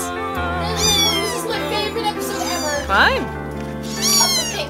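Several high kitten meows rise and fall, one sharp cry standing out near the middle, mixed in with someone talking over them.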